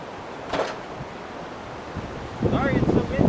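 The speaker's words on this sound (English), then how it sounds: "Sorry, it's so windy." Wind gusts buffet an outdoor microphone on a hill, with low rumbling bursts that grow louder and more turbulent toward the end.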